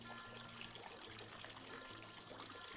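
Coconut water, a quarter cup, poured into a pineapple coconut mocktail: a faint, continuous trickling pour running steadily throughout, with no one talking.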